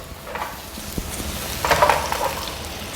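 Vegetables frying in olive oil in a pan, a soft, steady sizzle with a few faint stirring scrapes and a brief louder flare midway.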